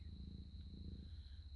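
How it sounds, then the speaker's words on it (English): Batty the cat purring up close in a dark room: a steady, low, soft rumble that continues unbroken throughout, with no talking. "That's Batty purring with me."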